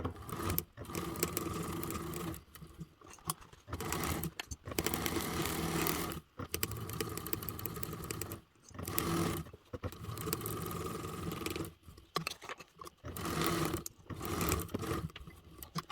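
A sewing machine base stitches mesh in close, loud bursts of rapid mechanical whirring, stopping and starting repeatedly with short pauses between runs.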